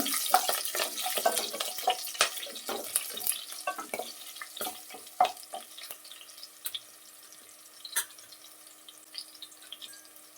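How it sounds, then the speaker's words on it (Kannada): Curry leaves crackle and sizzle in hot oil in a home kitchen pan, making a dense, close spattering with bright pops that slowly thins out. "ಒಂದು 2-3 ಎಸ್ಲು ಕರಿಬೇವಿನ ಸೊಪ್ಪು ಹಾಕ್ಕೊಳ್ತೀನಿ"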